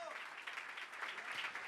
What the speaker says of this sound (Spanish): Ese aplauso es de alabanza para el Señor.